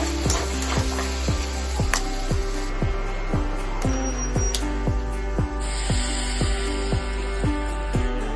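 Potatoes and eggplant fry together in a pan for a fish curry, giving a steady close sizzle broken by regular, rhythmic spatula scrapes throughout, with no talking.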